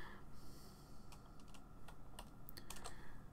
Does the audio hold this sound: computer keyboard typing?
yes